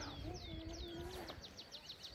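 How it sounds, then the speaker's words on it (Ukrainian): Small birds chirp and tweet in a quiet outdoor setting, with short rising calls repeating rapidly over soft background noise, faint and at a distance. "Тиша, спокій, пташки."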